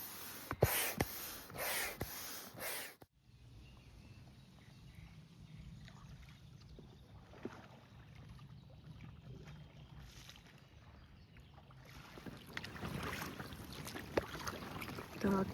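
A rented boat out on the water during a fishing trip, with wind buffeting and water sloshing close by, heavy gusts at the start and end and quieter lapping between.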